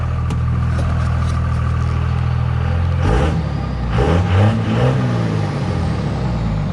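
A Cummins diesel in a 2001 Dodge Ram 2500 idles with a steady low rumble, then revs up loudly twice in quick succession before settling back, close to the engine.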